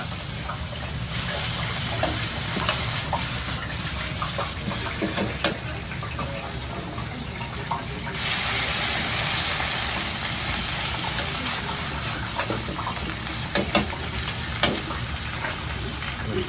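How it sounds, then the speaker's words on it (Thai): Mixed vegetables stir-fried in a hot pan in a Thai made-to-order food stall kitchen in Germany, a loud continuous sizzle with frequent sharp clatters of a spatula scraping and tossing, the frying swelling louder midway. "เมนูผัดผักร่วมนะ เราใส่ผักทุกอย่างที่เรา มีในร้านไปเลยนะ"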